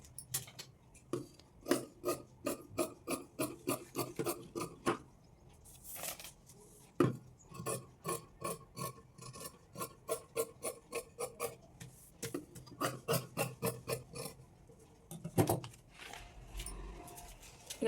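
Scissors snip through blouse fabric in quick, evenly spaced runs of close, crisp cuts, broken by short pauses.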